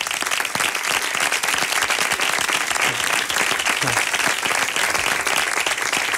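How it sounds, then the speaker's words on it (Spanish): Sustained audience applause fills a flamenco concert hall as band members are introduced, dense and steady clapping loud and near throughout with no break. "Un aplauso."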